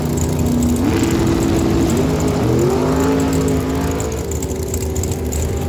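A dragster with a 615 cubic inch big block Chevrolet engine roars loudly and steadily at a drag strip, its pitch climbing and shifting as it revs, with no talk over it.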